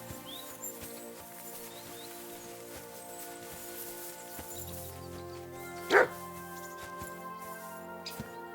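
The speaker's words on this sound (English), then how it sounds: "Barking." A single sharp dog bark rings out in Kingdom Come: Deliverance II, standing out once over a steady game ambience of low drones and soft tonal music.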